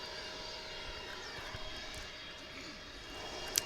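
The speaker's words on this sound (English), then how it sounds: "So again, this is going to be American Flight 6 from Maui. This will be a 787-900." An American Airlines Boeing 787-9 arriving from Maui comes in to land with a faint, distant jet roar that holds steady throughout.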